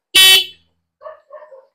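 A Bajaj CT 100 motorcycle horn sounds nearby after a Honeywell switch is installed: a brief blare, then two short, softer beeps, each one clear against silence.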